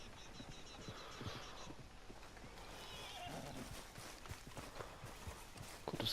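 Horse hooves clip-clop steadily at close range in the video game Red Dead Redemption 2, with a horse whinnying now and then amid a low ambient background.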